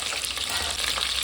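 Green chilies and onion frying in a pan for a spicy fish curry, a steady close hiss and sizzle of hot oil with faint stirring, no voices.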